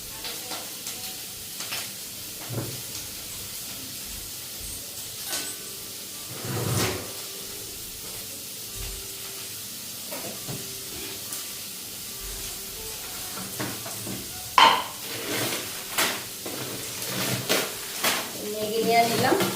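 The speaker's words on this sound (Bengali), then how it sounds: "তেলের মধ্যে একটু হালকা ফ্রাই করে নিতেছি।" Onion and cabbage fry in oil in a pan with a soft, continuous sizzle. Scattered stirring scrapes and kitchen clatter are heard, louder toward the end.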